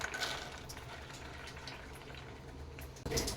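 A tumbler of water is poured into a pressure cooker holding peanuts soaked for two hours, making a soft, steady splashing and gurgling close by. A brief clunk comes near the end.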